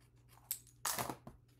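Card paper being trimmed for a fancy fold double card, heard as a few short, close crisp cuts and crunches, the longest in the middle, with no talking.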